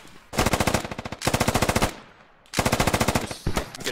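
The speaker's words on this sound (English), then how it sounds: "It might be HMG fire" Heavy machine gun fire in the Squad military shooter game, three long rapid bursts of loud, close automatic shots separated by short gaps.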